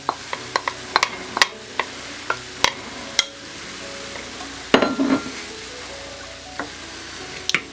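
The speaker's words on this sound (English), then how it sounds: "I'm going to add the celery. And I used half of that onion." Celery and onion go into a frying pan for a cheesy hamburger casserole, with a run of sharp utensil taps and scrapes against the pan over a low sizzle, loud and close, and no voices.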